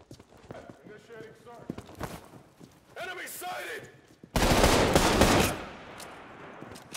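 Gunfire in the shooter Trepang2 comes as scattered sharp shots early, then a loud, dense burst of rapid fire near the end, with game noise between the volleys.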